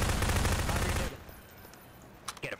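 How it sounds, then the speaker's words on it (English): Rapid gunfire in the Garry's Mod video game, a dense burst of fusillade lasting about a second, then near silence with a few faint shots or clicks toward the end. "we're under fire!"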